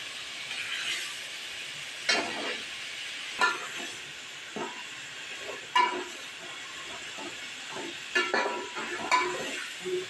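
Spices fry and browning in a pot for chana daal pulao, a soft sizzling hiss broken by louder bursts of stirring and scraping every couple of seconds, close and moderately quiet.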